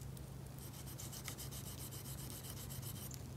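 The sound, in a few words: sharpening a Gerber Principle knife to remove burr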